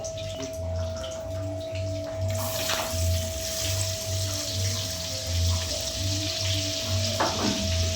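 Chopped onion hits hot oil already frying cardamom, cloves and red chili, setting off a loud, steady sizzle with stirring scrapes and a low rhythmic hum from the stove or cooker hood.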